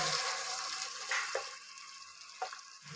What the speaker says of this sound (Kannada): ಈ ಮಸಾಲ ಹಸಿ ಸ್ಮೆಲೆಲ್ಲ ಹೋಗೋವರೆಗೂ ಎಣ್ಣೆಯಲ್ಲಿ ಫ್ರೈ ಮಾಡ್ಕೋಬೇಕು